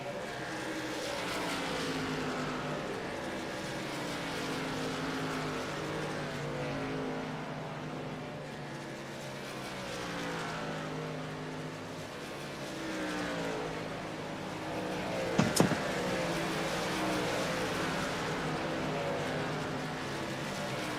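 Race truck engines drone through a racing video game session at Iowa Speedway, a steady layered roar of several trucks with shifting pitch and one brief sharp click near the end.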